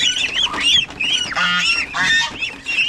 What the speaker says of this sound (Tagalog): Sisiw ng ating pato.